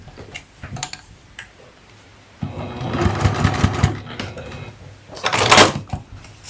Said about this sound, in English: you can go ahead and tack that down with 1/4 inch stay stitching on each side